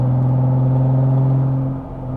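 A V6 Toyota MR2 engine lugs in fifth gear up a steep hill at low revs, a deep steady droning rumble with strong low hums, close and continuous, dipping briefly near the end.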